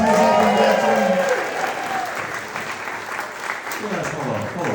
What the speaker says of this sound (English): Round of applause to his Edwin.